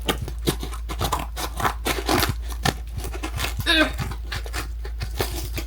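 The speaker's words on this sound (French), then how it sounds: "Je crois que je vais prendre des ciseaux" Close, crisp snipping and crinkling of packaging as scissors cut in short bursts, with a quiet voice speaking at times.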